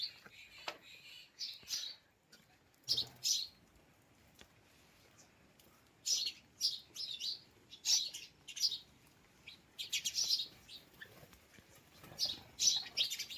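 Sparrows chirp in short, bright bursts inside a village house, scattered and repeated against a quiet background, fairly close.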